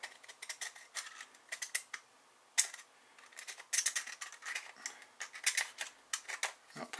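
A knife shaves polymer material from a Ducati 1098 motorcycle mirror in close, uneven bursts of short scraping and clicking cuts, with brief pauses between strokes and no voices.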